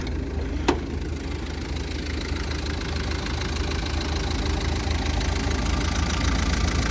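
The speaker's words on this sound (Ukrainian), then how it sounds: "Двигун працює просто ідеально." A 2006 Opel Vivaro 1.9 dCi diesel van engine idles steadily and loudly throughout, a low continuous knocking rumble with one brief click near the start.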